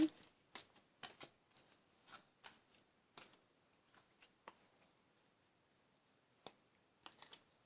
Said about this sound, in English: I'm just going to shuffle and pull a Wisdom of Oracle card